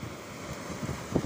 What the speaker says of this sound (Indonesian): Oh, ombak datang.